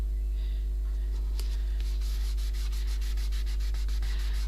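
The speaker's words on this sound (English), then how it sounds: "I'm just burnishing that a bit." Washi tape is burnished onto an art journal page with soft, repeated rubbing strokes that are faint and close, over a low background hum.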